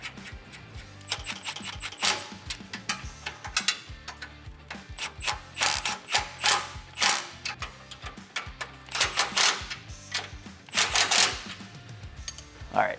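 A hand ratchet clicks steadily and close as nuts are tightened on a Toyota Tacoma skid plate, in rapid repeated bursts with no talking.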